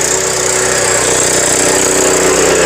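Tiller engine running in second gear at the Ludhiana farm fair, a loud, close, steady mechanical drone with a rapid chugging pulse that holds for the whole stretch, with no talk.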